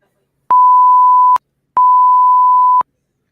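Two loud electronic beeps as a sound effect, each a steady pure tone lasting about a second, separated by a short gap, with no talk.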